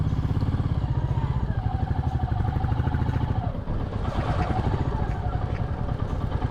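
A motorbike engine runs steadily and close as the rider turns the bike around and heads back on a road near a footpath and bridge at Purmandal, with a continuous throbbing rumble and some clatter throughout.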